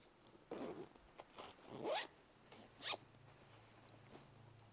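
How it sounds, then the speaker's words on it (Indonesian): The zipper on the back of a secondhand branded leather handbag is pulled open and shut in several short, quiet rasping strokes, close up. "Ini ada resleting belakangnya aman."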